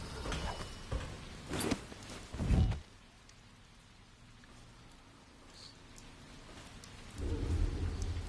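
Steady rain and rolling thunder in the video game Dishonored, with a couple of loud rumbling bursts early on, then a constant hiss of rain, swelling again near the end.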